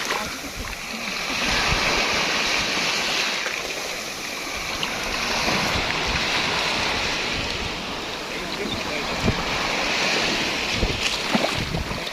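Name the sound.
ocean waves and wind at the sea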